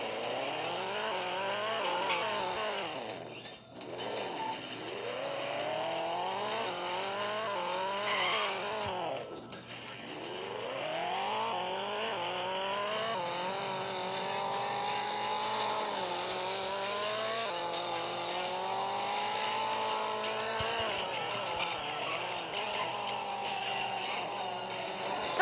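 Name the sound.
cars driving in video game Extreme Car Driving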